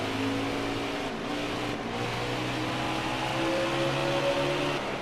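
Race car engines at Bristol in the NASCAR Heat 4 video game, a steady droning roar with rising and shifting engine tones, loud and continuous, with no talking.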